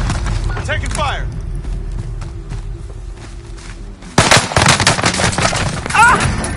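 Call of Duty Warzone firefight with rapid automatic gunfire bursts, sparse at first, then a sudden loud, dense barrage of shots; a voice speaks over the action.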